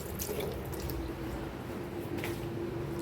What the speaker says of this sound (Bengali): চলো হাতটা ধুয়ে নিই